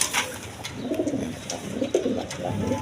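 Large pigeons coo in a repeated, soft, throaty rhythm at close range, several birds overlapping in a steady low murmur with no talking.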